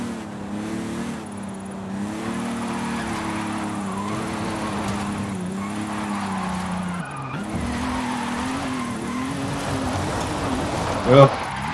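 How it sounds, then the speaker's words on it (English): A BMW M1 drifts through a drift zone in Forza Horizon 5, its engine holding a loud, steady, wavering drone for the whole stretch. A brief dip comes midway, then a sharp spike near the end. "I'm aiming for a 3-star drift zone with this car"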